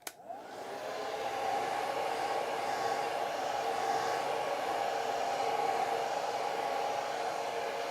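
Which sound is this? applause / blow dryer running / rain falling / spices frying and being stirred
blow dryer running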